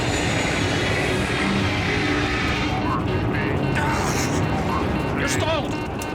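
Dense roaring engine and wind noise fills the cabin as Alaska Airlines Flight 261 plunges in a steep dive from 31,000 feet, loud and continuous, with voices speaking over it.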